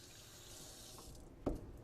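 Tap water running into a sink during handwashing, a soft, steady hiss with a brief splashing burst near the end.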